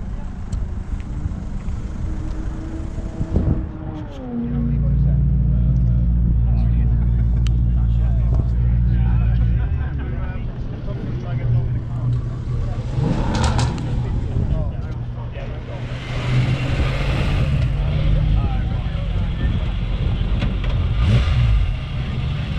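A white launch-spec Jaguar F-Type sports car at Castle Combe Circuit gives a steady, loud, low engine drone that swells and shifts over time, with talk heard over it.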